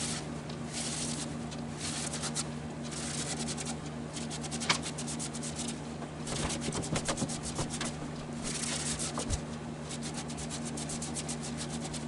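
Soft, repetitive rubbing and sanding on the inside of a turned walnut live-edge crotch bowl, steady strokes with a faint hum behind them.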